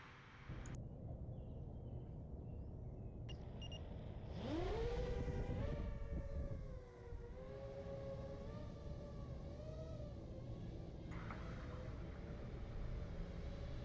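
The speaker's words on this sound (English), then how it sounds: "I brought it outside and did a quick hover test" Quadcopter drone motors spin up outdoors for a hover test, rising into a steady, buzzing whine that wavers in pitch as the craft holds position, with a rumbling background.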